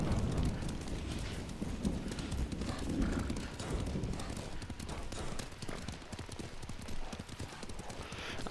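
Horse hooves gallop in the video game Ghost of Tsushima, a dense, fast, continuous clatter of clip-clop beats that holds steady and fairly loud throughout, with a rumbling background underneath.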